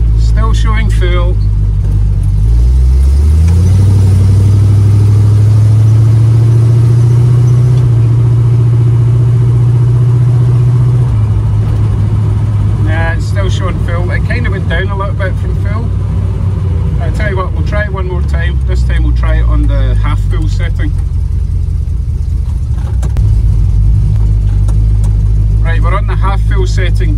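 A 1936 Chevy car engine running while driving, with a steady low drone that rises as it accelerates, under someone talking for much of the time.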